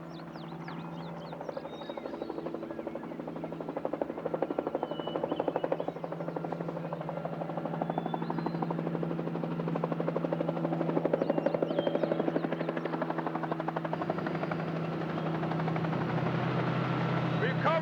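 Continuous rhythmic thumping of a news helicopter, steady and fairly close, with a reporter's voice talking over the rotor noise throughout.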